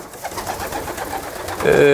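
Soft, low pigeon coos repeat close by inside a pigeon loft over a steady hum, with one brief clearer call near the end.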